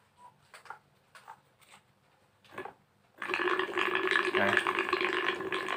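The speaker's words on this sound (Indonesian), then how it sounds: "Ini bunyi dari aeratornya itu." After a few soft clicks and a brief word, a small aquarium aerator pump for culturing brine shrimp eggs starts up, giving a steady close bubbling and gurgling in water.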